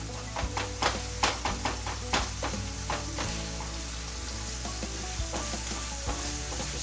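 Onions and ground meat for Pennsylvania-style sloppy joes sauté in a pan, giving a steady, close sizzle with repeated sharp clicks and scrapes of a utensil working through the mix, and no talking.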